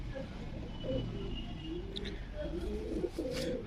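Low-flying breeding pairs of pigeons in a home loft in Krishnanagar coo in soft, repeated low phrases over a constant background hum, with a few faint higher clicks.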